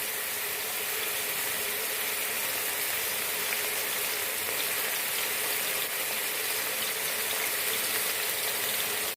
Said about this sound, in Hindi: प्याज को हम फ्राई कर लेंगे।